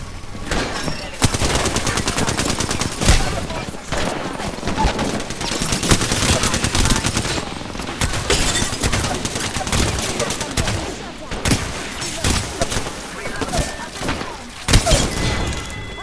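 Dense Apex Legends gunfire in close-range bursts, with rapid automatic fire, sharp single shots and glassy shattering cracks in near-continuous layers at high volume, and speech mixed in.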